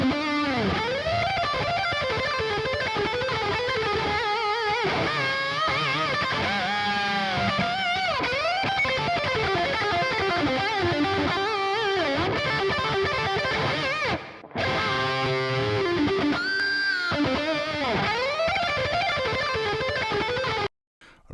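A Strandberg electric guitar played through its passive bridge pickup with reverb gives a sharp, aggressive, distorted tone, running continuously as a riff-driven phrase of chords and notes with brief gaps and a ringing ending.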